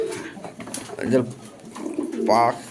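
Foreign pedigree racing pigeons cooing close by, two clear rolling coos rising above a busy background with someone talking throughout.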